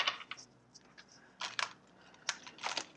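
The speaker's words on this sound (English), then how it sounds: "looks like I'm supposed to shuffle the cards" Tarot cards being shuffled by hand in a quiet room, giving several short papery riffling bursts separated by pauses, close and fairly soft.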